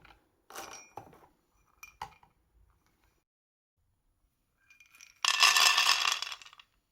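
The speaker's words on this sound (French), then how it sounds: "je vais les faire griller dans une poêle" Seeds for a Cameroonian braised-fish spice mix scrape and rattle in a frying pan: a few short clinks and scrapes, a pause, then a longer sustained clattering shake near the end.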